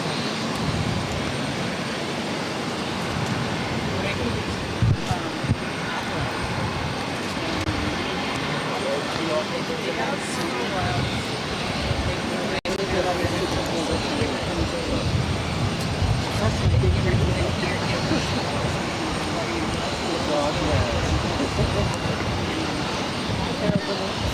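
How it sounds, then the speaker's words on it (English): Azores Airlines Airbus A321neo taking off from Boston Logan, bound for Ponta Delgada, a broad steady engine roar held at moderate distance throughout, with voices talking faintly beneath it. "Azores Airlines 282 taking off to Ponta Delgada on the A321neo"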